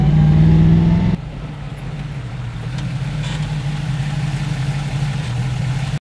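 A 1967 Chevy Camaro SS engine idles close by with a steady, deep rumble that drops slightly in level after the first second and then holds a loping, even tone.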